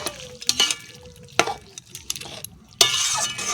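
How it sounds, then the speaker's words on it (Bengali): Lentil dumplings (dal bori) fry in oil alongside a spinach dish, giving bursts of crackling sizzle interrupted by scraping stirs and utensil knocks, close and moderately loud; no talking. "ডালের বড়ি ভাজবো, তাই জন্য ডালের বড়ি দিয়ে দেবো।"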